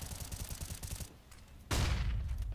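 Gunfire in Counter-Strike on the Inferno map, a quick rattling volley of shots for about a second, a brief lull, then a loud burst of noise that carries on to the end.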